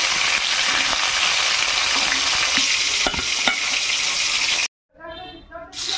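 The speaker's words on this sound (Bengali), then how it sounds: "বাটি মাথাগুলো খুব সুন্দর ভাজা হয়ে গেছে এর মধ্যে" Steady, loud sizzling of rohu fish heads frying in hot oil with occasional stirring clatter, cutting out abruptly near the end before a softer sizzle returns.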